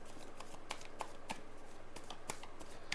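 Tarot cards are shuffled by hand, quiet repeated riffling and soft slaps in a steady rhythm, with crisp clicks of cards knocking together, close and alone.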